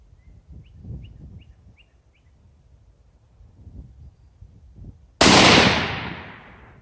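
A Stevens 200 bolt-action rifle in .223 Remington fires one loud, close shot near the end, its sharp crack trailing into a decaying echo after a quiet outdoor stretch with faint bird chirps.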